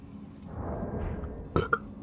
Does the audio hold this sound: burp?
yes